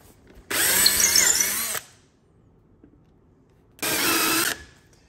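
A power drill whirs in two bursts, a longer run of about a second and a shorter one after a quiet pause, close and loud.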